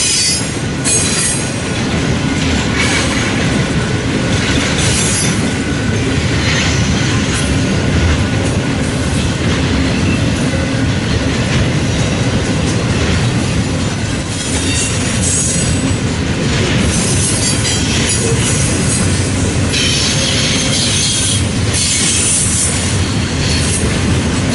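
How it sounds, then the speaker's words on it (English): A long double-stacked freight train rolls past near Fremont, Nebraska, a steady loud roar of wheels and cars with rhythmic clatter and occasional squeal, continuous throughout. "that stacked train heads east into Omaha"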